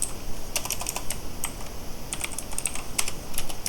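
Fingers type HTML code on a computer keyboard, tapping out quick irregular bursts of crisp, close key clicks with brief pauses between runs and no voices.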